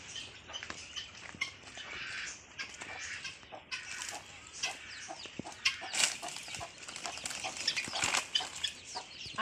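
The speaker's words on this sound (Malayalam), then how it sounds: "അട വെച്ചിറക്കിയ കോഴികളാണ്." Mother hens with their chicks, hatched by brooding, cluck and peep close by in a steady, busy chatter. Several louder squawks and rustles of wing flapping break through it, and no voices are heard.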